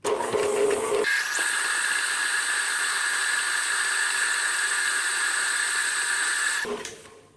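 An electric mixer beats double chocolate cranberry cookie dough in a bowl, starting abruptly with a steady high whirring drone that holds loud and even for several seconds before cutting off, with no talk.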